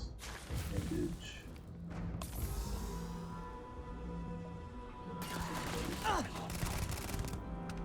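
Gunfire from a Starfield firefight, a modded playthrough, comes as bursts of rapid shots with thuds, with quieter stretches between them and some game sounds and movement in the background.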